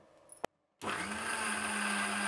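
A mixer grinder whirs up to full speed and runs steadily, loud and close, as it blends a chutney with quartered onion pieces. A click and a brief silence come just before the motor starts.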